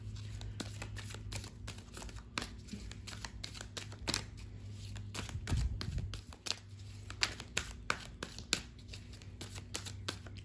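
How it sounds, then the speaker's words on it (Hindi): An energy oracle card deck is shuffled by hand at close range, a run of quick riffling flicks and soft slaps in an irregular rhythm, fairly quiet, with no talk. "अब हम थोड़े से एनर्जी ओरेकल डेक से कार्ड लेते हैं।"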